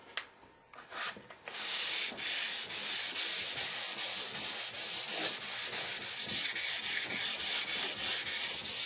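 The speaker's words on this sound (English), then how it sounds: "So with 600 grit wrapped around that 12-inch radius block, we're going to do the same process." Steady, close abrasive sanding of a guitar fretboard with 600-grit paper wrapped around a 12-inch radius block, a continuous rhythmic rubbing hiss that starts after a few scattered strokes and carries on alone.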